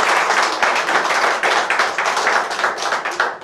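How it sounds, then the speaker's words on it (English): Guests applaud at an Elvis-themed wedding ceremony in the Graceland Chapel in Las Vegas, a loud, dense round of clapping from a small crowd close by, with uneven bursts that swell and dip. "How about a round of applause for these guys?"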